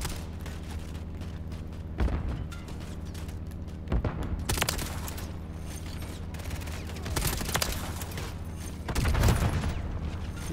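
Call of Duty Modern Warfare 3 gameplay with the Ram-7 rifle, with loud bursts of gunfire at about 2, 4 and 9 seconds over a constant bed of mechanical game noise.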